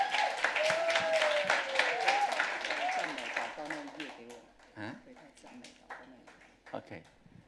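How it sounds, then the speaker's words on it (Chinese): A church congregation at a Sunday service claps to welcome the pastor, the applause moderately loud at first under talk and then thinning out into scattered claps and voices. "我们用热烈的掌声来欢迎我们"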